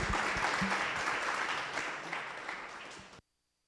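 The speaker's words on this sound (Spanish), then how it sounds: "Por favor, le pido un fuerte aplauso para Ignacio." Strong audience applause at a round-table event, steady dense clapping from a crowd that tapers slightly before cutting off abruptly.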